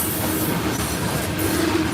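Loaded coal freight train rolling past close by, a loud, continuous rumble of wheels and rail noise.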